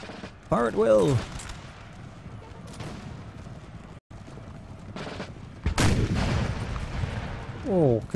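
In the video game Napoleon: Total War, a volley of musket fire and booming cannon shots bursts out, with harmonic voice-like shouts between the blasts.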